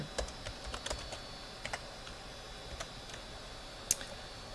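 Keys tap on a computer keyboard as a password is typed. The taps are faint and scattered and come in irregular clusters, ending in one sharper key press over a quiet room hum.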